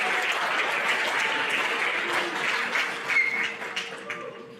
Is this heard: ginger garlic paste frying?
no